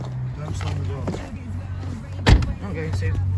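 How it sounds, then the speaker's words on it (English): A car door slams shut once, a sharp loud thump after a woman's quiet speech on a drive out hunting for a chiming church in Britain, with an idling engine hum running underneath. "Don't slam the door."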